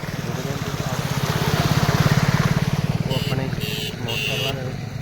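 A motorcycle engine putters up close as it rides through floodwater near the Sutlej river. Its throb swells, then bursts of splashing and spraying break out near the end.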